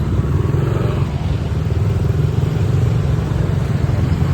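A motorcycle engine rumbles steadily in morning commuter traffic in Caloocan, close and loud, with a constant low drone and some clatter from surrounding vehicles.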